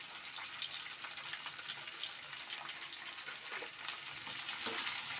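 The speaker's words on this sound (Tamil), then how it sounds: "நம்ம வெங்காயத்தை சேர்க்கும்போது கொஞ்சம் உப்பு போட்டுக்கணும்" Onions frying with salt in a pan, a steady, hissing sizzle heard close and alone, growing slightly louder toward the end with a couple of faint stirring scrapes.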